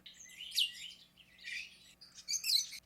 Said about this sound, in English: Yeah, birds.